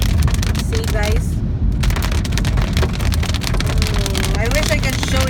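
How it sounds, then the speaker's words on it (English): Hail falling hard in a heavy storm, a dense continuous clatter of ice pellets striking surfaces close by, steady and loud throughout, with brief tonal sounds in the background. "It's raining so much hail."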